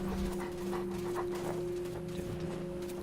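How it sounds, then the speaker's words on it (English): A dog pants with quick rhythmic breaths as ambient noise in the video game Wasteland 2, heard over a steady droning tone with no talk. "There's a dog."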